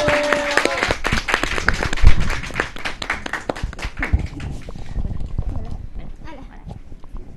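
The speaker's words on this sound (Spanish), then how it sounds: "Un aplauso para ella, por favor." Audience applause welcomes a guest onto a stage show, dense clapping from a crowd that gradually thins and fades, with voices talking over it.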